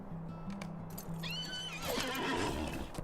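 A horse mount in the game Lord of the Rings Online gives a loud, close whinny with a rising and falling neigh, preceded by soft clip-clop hoofbeats over a low game hum.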